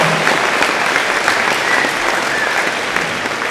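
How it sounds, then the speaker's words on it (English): A pageant audience at a county 4-H event gives a big, steady round of applause for Jessica, dense clapping filling the room from start to finish at constant loudness. "go ahead and give a big round of applause for Jessica"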